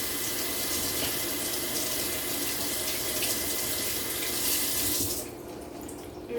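Water tap running steadily as a cup is rinsed under it in a kitchen sink, a loud continuous splashing rush that cuts off near the end.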